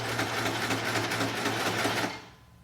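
A serger running continuously as it sews a chain stitch, a steady close mechanical whir that stops near the end.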